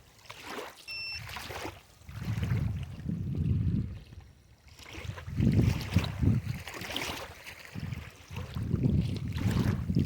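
A Boatman Actor Plus bait boat cruises by itself across the water, its small motor humming in uneven surges amid wind buffeting and gentle water splashes, rising and falling in strength as it travels.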